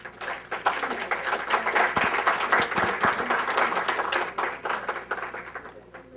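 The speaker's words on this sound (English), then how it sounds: "a round of applause would be appropriate" A room full of people applauds as candidates take the stage at a candidate forum, a dense, steady wash of clapping that carries on throughout.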